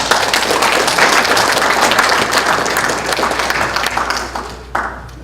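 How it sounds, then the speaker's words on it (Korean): A large audience applauds loudly and steadily at a political launch event for a new national coalition, the dense clapping holding for several seconds before thinning out near the end, with a few louder claps standing out. "힘찬 박수 부탁드립니다."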